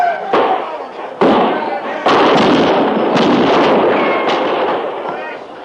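Battle gunfire effects in a frontier radio drama at a Western army fort, with several sharp broadband bursts and volleys at irregular intervals, loud and close, with shouting voices mixed in.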